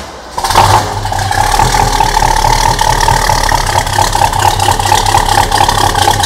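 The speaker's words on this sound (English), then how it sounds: "Great idle. A little bit of oomph to that cam." A Pontiac GTO engine turns over and settles into a loud, steady, lumpy idle from its cam, with a deep rumbling throb, close by and unbroken.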